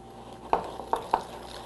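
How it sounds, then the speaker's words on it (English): A whisk works egg yolks in a bowl, giving three sharp, quick clinks against the side over soft background noise. "we're just going to whisk around until it turns pale yellow"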